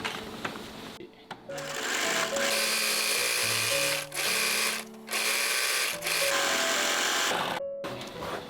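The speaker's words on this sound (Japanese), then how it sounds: "あとはロックミシンをかけて縫い代を後ろ側に倒すと完成です" An overlock serger sews a seam allowance on a garment pocket with a loud, steady mechanical whir. The run is broken by a few brief pauses and restarts, and there is no talking over it.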